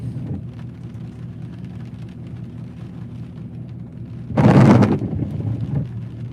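A loud thunderclap from a close lightning strike during a Florida–Georgia storm chase bursts out over a steady low rumble of wind and engine noise, then fades into a lingering roll.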